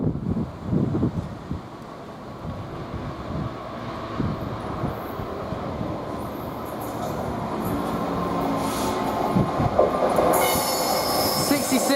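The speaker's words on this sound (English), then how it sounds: "the next train to pass by, we've got a GBRF Class 66 heading from Cliff Hall Farm to Bescott Sidings" A GBRF Class 66 freight train passes on the West Coast Main Line at Nuneaton, with heavy wagon rumble, clattering wheels and squealing metal building loudly as it goes by close at hand.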